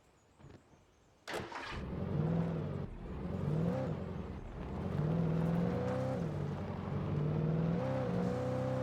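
A car in the video game Alan Wake starts with a sharp burst after a quiet moment, then its engine drones and revs up and down steadily as it drives.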